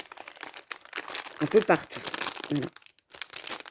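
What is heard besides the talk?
crumpling vintage Easter papers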